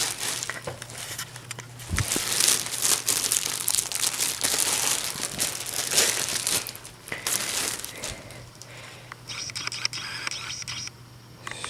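Plastic packaging crinkles and scrapes steadily while an intake part from a Delta Force kit for a 5.3 Chevy engine is handled, a close, busy rustle lasting most of the stretch before it eases off near the end.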